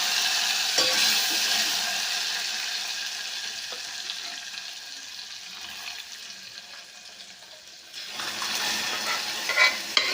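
Cooked dal for methi-tomato pappu tipped into a hot tempering and stirred, giving a steady close sizzle with scraping spoon sounds that eases midway, then swells again near the end.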